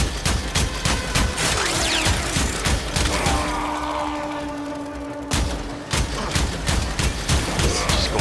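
Rapid bursts of gunfire from a slow-firing gun in Warframe during a Steel Path mission, loud, close and dense, with mechanical clatter and a brief lull near the middle before the shooting resumes.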